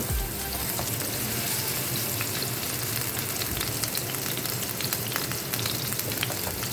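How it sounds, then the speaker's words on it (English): Hamburger meat patties fry in a large pan for a double cheeseburger, giving a continuous close sizzle with faint scraping and watery crackle throughout. "Put in the meat. I always use the pan."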